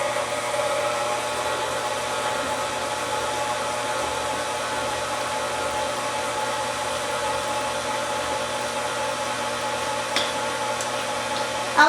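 Electric stand mixer creaming chocolate layer cake batter with eggs, a steady continuous whirring hum at moderate level running unbroken throughout, with a couple of faint clicks near the end.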